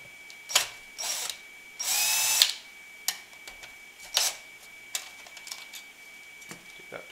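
A power drill backs screws out of a UPS casing in short separate whirring bursts, one longer run in the middle, close and fairly loud with quiet gaps between.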